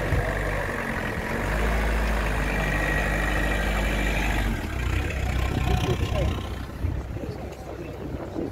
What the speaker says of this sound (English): We've heard quite a few of these diesels today.